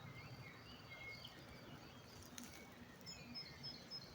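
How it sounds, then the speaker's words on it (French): Faint, scattered bird chirps drift in from a distance over a low, steady outdoor rumble, with no voices. "Écoutez le chant des oiseaux"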